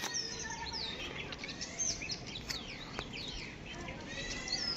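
Pigeons from Andhra Pradesh cooing and fluttering in a loft, soft bird calls mixed with a busy background murmur.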